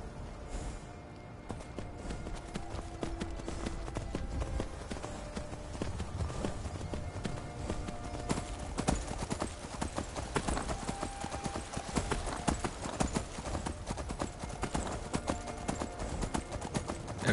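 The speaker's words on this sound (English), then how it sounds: "Oh, we can ride on the horse." Steady clip-clop of horse hooves while riding in Skyrim VR, a continuous rhythmic trot that runs the whole time over a dense, busy game soundscape with no talking.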